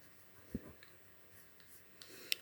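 Letters written by hand on paper next to a French Illiko scratch-card game. The pen makes faint, close scratching strokes, a few short marks spread over a quiet moment.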